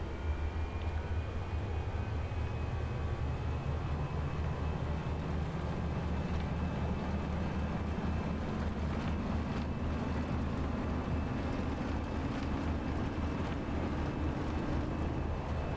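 Engines of a FlightFactor Airbus A320 Ultimate spool to full TOGA takeoff thrust in X-Plane 12, a continuous loud jet roar with a low whine that steadily rises in pitch throughout the takeoff run.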